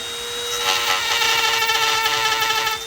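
A small grinding wheel cuts into a Honda Rebel motorcycle blinker mount to make clearance, giving a loud, steady, close-up whine with a rapid pulsing grind and no talk.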